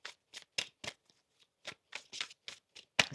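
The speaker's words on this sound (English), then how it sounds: "Let's get one more shuffle here." Tarot cards being shuffled in quick riffling bursts, a dozen or so short papery flicks with brief pauses, close and fairly quiet.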